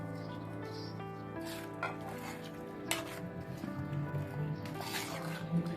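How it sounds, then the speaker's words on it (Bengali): Spices sizzle in oil with chopped onion and whole garlic as they are stirred in a pan for a mutton curry. There is steady frying hiss with scraping strokes, over a soft tonal musical backdrop. "এবারে মশলার সাথে তেলটাকে আমি ভালোভাবে মিশিয়ে নেব।"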